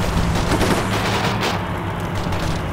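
Dense, continuous gunfire and booming blasts in the war game Combat Mission: Shock Force, a loud, unbroken barrage of overlapping shots with no pause throughout.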